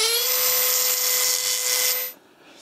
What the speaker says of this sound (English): I'm going to use the Dremel to smooth that up